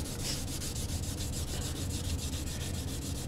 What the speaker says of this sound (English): I like to just run the sandpaper once or twice up that edge and that's it.